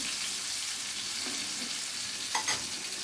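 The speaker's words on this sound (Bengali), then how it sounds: "আমি যেভাবে 3 মিনিট করে ভেজে নিয়েছি সেভাবে আপনারা ট্রাই করবেন" Chicken pieces frying in a pan, a quiet even sizzle throughout with a couple of light scrapes near the end.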